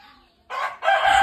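Chickens and young chicks in a backyard coop give a short burst of loud, close clucking and squawking in two quick bursts after a quiet start, with no talk.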